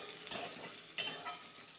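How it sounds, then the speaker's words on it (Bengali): Soybean chunks fry and get stirred in a pan with whole spices, a steady low sizzle broken by two sharp scraping stirs and a softer third, close and clear with no talking. "সোয়াবিনটা ভেজে নিব ভালো করে।"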